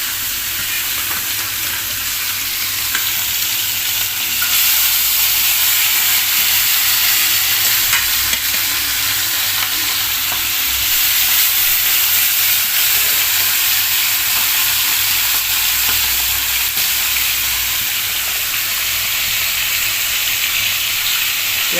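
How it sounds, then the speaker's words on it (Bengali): Fish frying in hot oil, a loud, dense and steady crackling sizzle that runs unbroken and close throughout, with no voices. "আমাদের তেল গরম হয়ে গেছে, এখন মাছ ছেড়ে দিলাম।"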